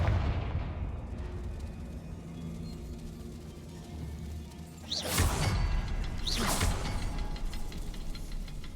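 Confringo blasting spell from Hogwarts Legacy: two sharp fiery bursts a little over a second apart, each a loud whooshing crack that rolls into an explosive rumble, set over a steady ambient game backdrop.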